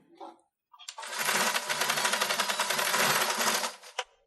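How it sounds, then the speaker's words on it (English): A sewing machine with a 90/40 needle stitches cotton fabric for a face mask, a rapid even mechanical chatter that runs steadily for a few seconds close by, preceded by a brief handling sound and ending with a click. "I'm gonna sew this part."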